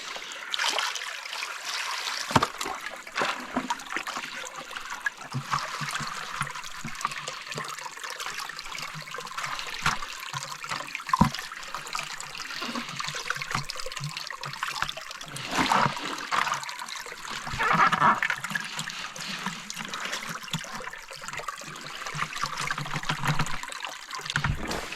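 Water sloshes and trickles steadily while gold is panned in a shallow creek at Nelson Creek, New Zealand, with irregular swirling splashes close by and no talk.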